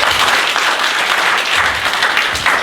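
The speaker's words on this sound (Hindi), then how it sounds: "एक बार ताली बजा देंगे" A church congregation breaks into loud, dense applause at a pastor's prompting during a sermon, a steady wash of many hands clapping close by with no voices over it.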